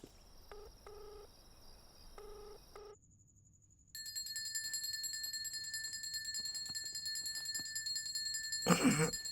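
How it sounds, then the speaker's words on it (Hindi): A phone rings with electronic beeping tones. Short repeated bursts give way to a steady, sustained high trill against faint background hiss, and a brief louder noise follows near the end. "अबे तेरा फोन बज रहा है,"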